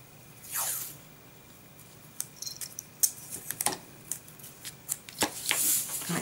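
Scissors snip along the edge of a paper expenses envelope for a Midori Traveler's Notebook, a run of short, crisp close-up cuts and paper rustles in a quiet room.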